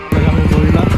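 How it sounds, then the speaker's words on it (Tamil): A girl's motorcycle roars loudly through its silencer exhaust, kicking in suddenly after a brief quiet moment and holding a steady, throbbing low rumble to the end. "இந்த பொண்ணோட பைக் சைலன்சர் சத்தத்தை கேட்டு"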